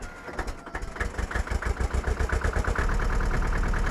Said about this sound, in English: Oh, nothing gets better than the sound of that old tractor.